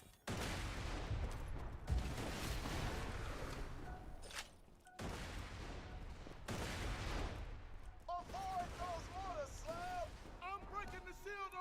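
Video game gunfire in dense, sustained bursts that come in several long volleys with brief gaps, loud and close, ending with some electronic tonal game sounds; a voice talks over parts of it.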